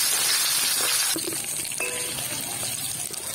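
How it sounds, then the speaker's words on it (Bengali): Potatoes fry in hot oil in a wok, giving a steady bright sizzling hiss close by, with a few light clinks from a utensil and the hiss easing slightly later. "ওই কড়াইতেই আমি আলুগুলো একটু ভেজে নিলাম।"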